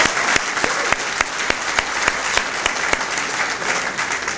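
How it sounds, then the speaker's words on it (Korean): Loud applause from a crowd at a Democratic United Party political rally in Daegu, offering congratulations: a thick, continuous clapping roar punctuated by a few sharp, close claps that stand out. "이인영 후보께 참 축하해 고맙다는 박수를 보내주고 싶습니다."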